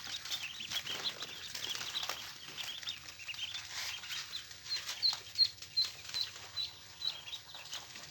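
Baby ducklings on a duck farm give soft, high peeping chirps that grow more frequent toward the end, over a faint rustling background with no talking.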